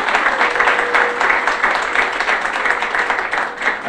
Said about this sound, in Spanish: Un aplauso pues para los panelistas.